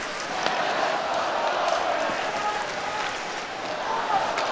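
A sellout arena crowd in Tampa at the NCAA men's ice hockey national title game between Quinnipiac and Minnesota, giving a steady, loud roar of cheering that stays even for the whole stretch.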